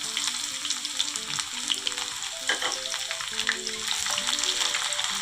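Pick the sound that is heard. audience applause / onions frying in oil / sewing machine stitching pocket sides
onions frying in oil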